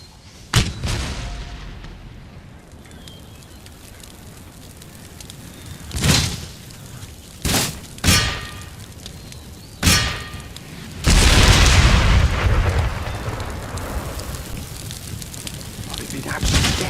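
British 32-pounder cannons firing in an Empire Total War battle for Paris: several heavy, booming shots a second or two apart, then a sustained loud rumbling volley, with someone speaking over the gunfire.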